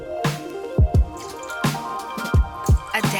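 Rice vinegar poured out to make pickle juice for pickled cucumbers and carrots, heard as a few close, hollow glugs and drips over a quiet kitchen background.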